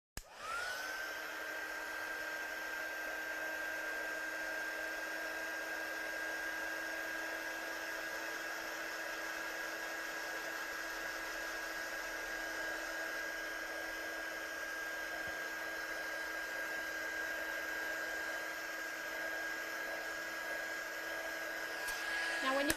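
A hair dryer blows steadily on a freehand watercolour painting, a constant faint whine and rush of air running for over twenty seconds without a break and without talk.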